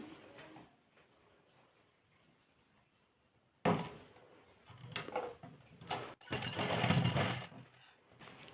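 A sewing machine stitches a V neck in several bursts of steady mechanical whirring close by, following a quiet stretch, with faint cooing-like sounds mixed in.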